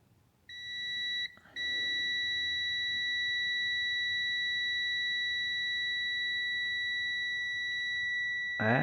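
A multimeter continuity tester emits a steady high-pitched tone while probing a Honda main relay, briefly interrupted once, then holding for several seconds alone.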